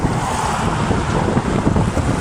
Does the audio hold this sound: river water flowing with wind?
yes